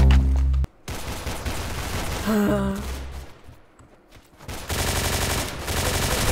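Gunfire in a video game comes in loud, dense bursts separated by a quieter gap, with sharp shot transients close up.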